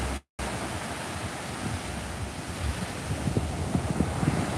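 Ocean waves break near the shore at a beach in Brooklyn, a dense, steady roar of surf with wind rumbling against the microphone, growing a little rougher toward the end, with no talk.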